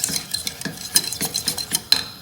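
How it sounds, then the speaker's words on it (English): Metal whisk stirring a cheese sauce in a pan, a run of quick, rhythmic scraping clinks against the metal, close and fairly loud with no talk. "you just keep whisking and cooking it in"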